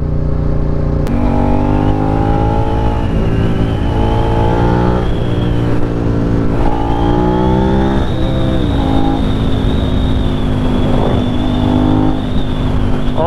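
A motorcycle, one of a group of Suzuki SV650, Kawasaki Ninja 650 and Vulcan S 650 bikes, rides twisty roads. Its engine is loud and close, revving up and down through repeated rising accelerations and gear changes without a break.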